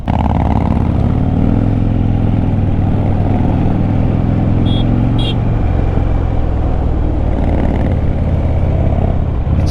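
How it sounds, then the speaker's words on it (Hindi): Harley-Davidson Fat Bob and Royal Enfield Continental GT motorcycles riding along hill roads, a steady loud engine drone with low rumble and wind rush running throughout. "Now brother is on continental GT and I am riding the fat Bob."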